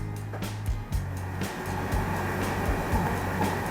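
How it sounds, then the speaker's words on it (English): A top-load washer with an E3 error starts a direct spin cycle. The motor hums low and steady, broken by rhythmic thumps and rumbles as the drum and drain pump run, heard close up with no talking. "Now I will start the machine."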